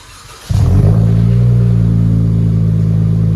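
A Dodge Challenger 3.6L V6 with a Vibrant exhaust fires up and settles into a deep, steady, throaty idle with a loud, resonant exhaust rumble close by.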